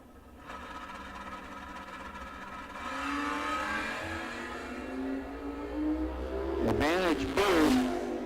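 A Mustang door-car drag racer builds up under continuous track announcer commentary, its engine note rising steadily and getting louder, with a sharp revving warble near the end.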